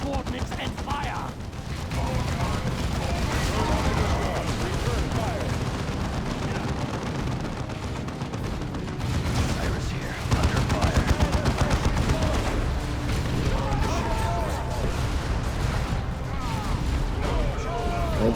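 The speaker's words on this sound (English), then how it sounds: "Brothers, return fire." Gunfire rages in a Blood Ravens video game battle, with dense continuous bursts and volleys of shots mixed with booming blasts, a loud, unbroken barrage running through the whole stretch while voices shout over it.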